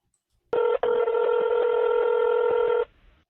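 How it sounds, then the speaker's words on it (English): Telephone call tones: a steady, loud multi-tone ringback or dial signal holds for about two seconds after a brief click, then cuts off, followed by faint line noise. No speech. "Thank you for calling Lakewood Church Joel Osteen Ministries."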